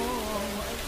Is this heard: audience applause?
no